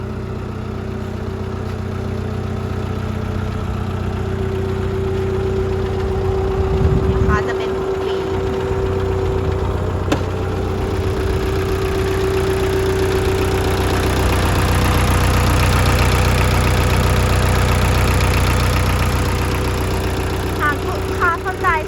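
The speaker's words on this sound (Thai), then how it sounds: "เครื่องยนต์จะเป็นเครื่องยนต์มิสูนะคะ เป็นดีเซล" A 1.5-ton Mitsubishi diesel forklift engine idles steadily, a low, even rumble with a constant hum that holds at the same level throughout.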